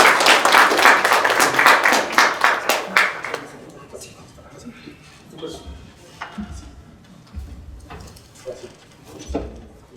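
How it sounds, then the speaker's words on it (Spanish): An audience at an engineering seminar on structural repair breaks into loud applause for about three seconds, then it thins into scattered claps and shuffling with voices in the room. "Un aplauso, por favor."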